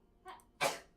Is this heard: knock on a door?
no